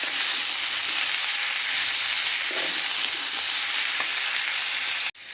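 Ridge gourd with tomato and salt frying in a covered pan, giving a steady, close, loud sizzle that runs evenly throughout with faint stirring clinks, then cuts off abruptly near the end.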